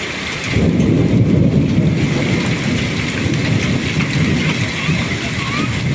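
Hailstones and heavy rain pound steadily on a terrace garden during a storm, a dense close roar that starts abruptly and keeps going, with a voice speaking over it.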